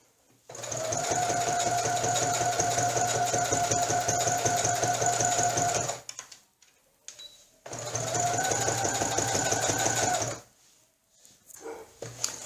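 A sewing machine runs in two sustained bursts of fast, even stitching on fabric, stopping briefly between them, with a short quiet pause and small handling noises at the end.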